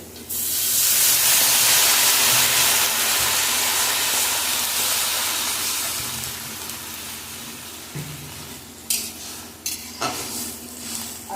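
Water goes into a hot pan of lightly fried potato and bottle gourd stems, setting off a loud burst of hissing steam and sizzle that gradually dies down, followed by a few utensil knocks.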